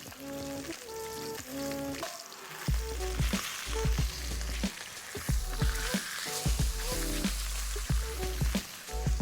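A barramundi fillet sizzles in a pan after being flipped, giving a bright crackling fry that carries on under clattering taps and a low tonal hum, while a rapid crackle fills the upper range throughout.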